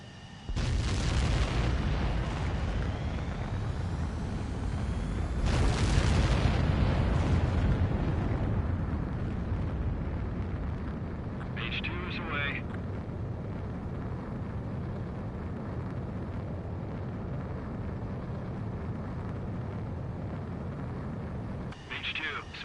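A fighter jet takes off in Ace Combat 7, a loud sustained roar that surges twice into a booming blast before settling into a steady rushing engine drone, with brief radio-style chirps.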